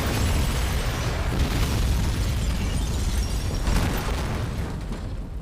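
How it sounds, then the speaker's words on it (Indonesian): A gas station explodes in a Jason Statham action film, a loud, sustained, rumbling blast with roaring debris that holds for several seconds before slowly tapering off. "Setelah terjadinya ledakan di pom tadi"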